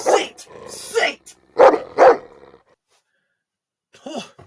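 A dog barks and growls in short loud bursts, two sharp barks then a pause and a final growl, with people talking around it.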